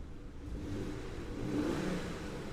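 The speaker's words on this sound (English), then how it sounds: "let's give a couple of revs." A 1999 Toyota Aristo V300 with a twin-turbo engine revs twice, the steady low engine note swelling and then easing back. It sounds close and fairly loud, with no talking over it.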